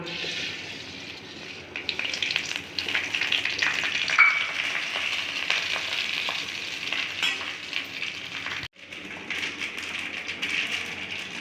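Mustard seeds frying in hot oil for a mustard curry, a dense, loud crackling sizzle with rapid popping that carries on throughout, briefly dipping near the end before resuming.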